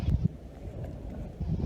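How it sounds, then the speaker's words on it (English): Wind gusting through a mountain gap in the Grayson Highlands buffets the microphone in low, rumbling bursts, strongest at the start and end with a calmer stretch between. "we're in a gap here,"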